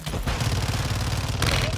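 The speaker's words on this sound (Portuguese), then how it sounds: "Tiro, tiro." Rapid gunfire in Call of Duty Warzone 2.0 third-person mode, a dense burst of shots with a second volley near the end, loud and close over game ambience.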